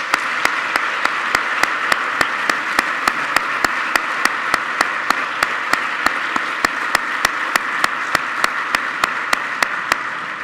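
An audience at a ceremony for the 30th anniversary of the Erasmus programme applauds an award winner with sustained, even clapping. The evenly spaced claps stay steady and fairly loud for the whole stretch.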